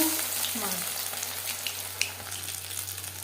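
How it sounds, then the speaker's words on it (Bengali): Marinated fish dipped in batter frying in hot refined oil gives a steady bubbling sizzle with a few sharp pops and faint kitchen clatter, close by and without speech. "ব্যাটারে বেশ ভালো করে ডুবিয়ে নেব বেশ খানিকটা রিফাইন আমি গরম করে নিয়েছি এবার দিয়ে দেবো"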